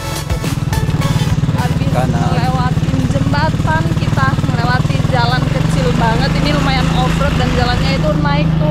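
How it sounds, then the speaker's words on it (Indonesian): A motorcycle engine drones loudly and steadily throughout a ride toward a forest past village cocoa plantations, with birdsong-like chirps and a voice faintly present over the continuous hum. "Jadi kita sekarang lagi menuju tempatnya, naik motor."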